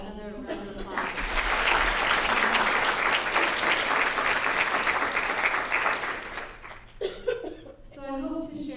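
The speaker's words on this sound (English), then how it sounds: "can we please give Laura another round of applause" An audience at a public health talk breaks into sustained applause lasting several seconds, dense and loud, fading out before a speaker's voice returns briefly at the end.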